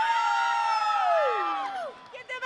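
A team of children at a LEGO League final lets out a loud, sustained cheer, voices rising together in a long whooping shout that falls away, followed by a few short bursts.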